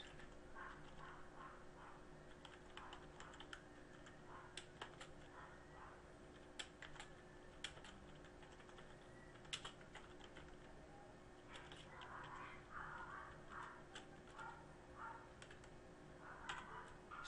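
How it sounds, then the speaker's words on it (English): Faint keystrokes on a computer keyboard, scattered clusters of soft clicks and taps over a quiet room hum, with no voices. "Let me type hello world."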